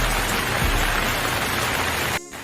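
Heavy rain pours down in a steady, dense hiss that covers the whole stretch evenly and stays loud, then suddenly cuts off near the end.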